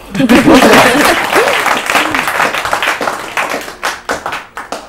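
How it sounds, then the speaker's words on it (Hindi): Studio audience clapping on an Urdu-language literary quiz programme, a burst of applause that starts loud and dense, then thins into scattered, fading claps, with voices talking over it early on. "तो आप ताली बजाइए ना"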